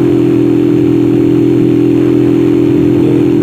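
A Skygo motorcycle engine labors uphill on a mountain road toward Arakan, a loud, close, unbroken droning whine with a strong steady pitch and no pauses.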